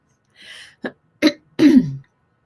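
A few short throaty coughs and throat-clearing bursts, close by, spaced out over a couple of seconds.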